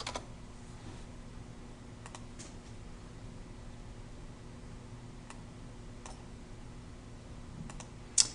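Computer keyboard keys tapped and clicked while editing a document header, sparse quiet clicks and short bursts over a steady background hiss, with one sharper click near the end.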